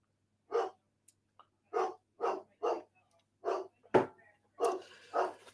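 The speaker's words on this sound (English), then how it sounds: "Well, he's barking now, that's for sure." A dog barks in short, separate woofs, about eight in all at an irregular, unhurried pace, fairly close and alone in an otherwise quiet room, with a faint breath or whimper between some barks.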